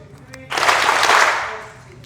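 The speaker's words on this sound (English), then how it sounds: "3 claps to me on 3" A seated conference audience breaks into a short, loud burst of group clapping that swells quickly and tapers off after about a second, following a quiet room.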